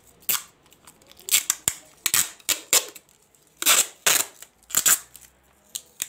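Adhesive tape is pulled off the roll and pressed onto an assignment envelope in a series of loud, close, sharp ripping bursts spaced unevenly, with no talking.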